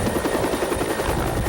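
Military NATO helicopter in flight, rapid rhythmic rotor chopping over a whining engine, steady and fairly loud, heard alone.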